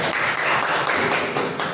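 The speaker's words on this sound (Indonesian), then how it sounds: "Tepuk tangan untuk Ibu Min." Brief burst of applause from a seated group of teachers at a school training session honoring someone speaker, a short, dense patter of clapping hands that swells slightly and holds.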